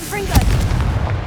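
A Confringo fire spell blasting in Hogwarts Legacy, a short, loud, booming burst with a deep rumbling tail, close and brief.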